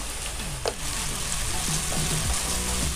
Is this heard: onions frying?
yes